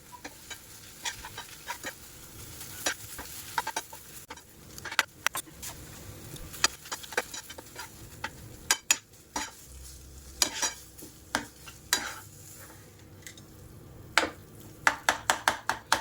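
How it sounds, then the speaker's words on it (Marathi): Soyabean keema frying in oil while being stirred: a spoon clatters and scrapes against the pan in irregular, fairly sharp strokes over a continuous close sizzle, the strokes growing more frequent and distinct in the second half. "आणि याला एक मिक्स करून घेऊ."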